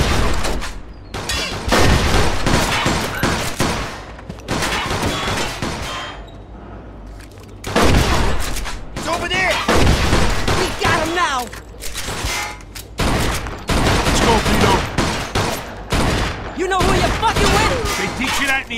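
Bursts of gunfire in the Mafia 2 video game, rapid loud volleys of shots repeating in clusters across the scene, with shouted voices between the bursts.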